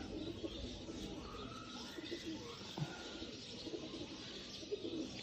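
Chapray pigeons, a breeder male among them, coo softly and intermittently in a domestic loft, with faint chirps and background room noise throughout.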